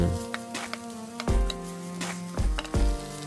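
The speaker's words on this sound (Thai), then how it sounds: "เอาลงไปผัดก่อนได้เลยนะครับ" Onion, cucumber, tomato and yellow and red peppers stir-fry in a pan with garlic, a steady close sizzle punctuated by a few sharp clacks of the spatula against the pan.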